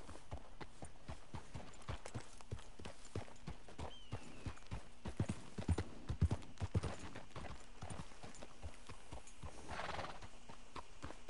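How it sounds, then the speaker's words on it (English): Rhythmic clip-clop of horse hooves at a steady walk in Red Dead Redemption 2, with a horse whinnying partway through; moderately close and even throughout. "That's a hell of a horse you got there."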